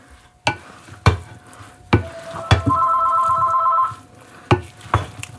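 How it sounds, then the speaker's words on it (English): A telephone rings in a home kitchen, its electronic trill sounding once for about a second amid scattered clinks and thumps from stirring and mixing cornbread stuffing in a bowl. No one speaks. "There's the phone."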